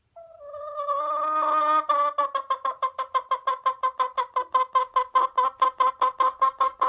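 A live chicken held in someone's hands lets out a long drawn squawk, then a fast, steady run of bright, evenly spaced clucks, loud and close with no talking.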